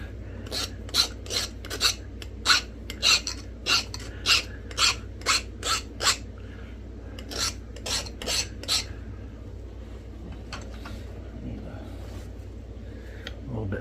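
A copper flintknapping tool is pressed and scraped against heat-treated Edwards Plateau flint outdoors in cold weather, giving a quick run of about a dozen sharp, rhythmic rasping strokes, then a few softer scrapes and quieter handling, close to the listener.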